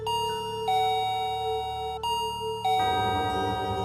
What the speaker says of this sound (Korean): 초인종이 울렸다